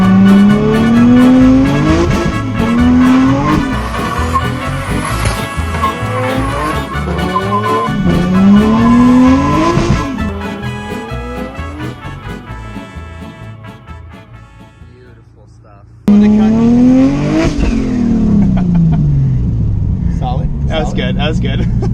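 A big-turbo Nissan R33 Skyline accelerates hard, its engine note climbing again and again before sputtering as it hits boost cut. It is loud and close, with a brief lull and then another surging pull.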